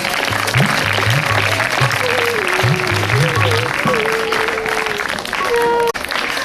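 Students and teachers at a school event in Ghaziabad clap in a steady, dense wash of applause that runs throughout, with voices and tonal sounds over it and a brief dip near the end.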